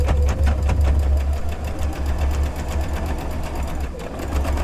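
A sewing machine runs steadily and loud while stitching a quilt block, a continuous close whir with a fast needle rhythm and no talking over it.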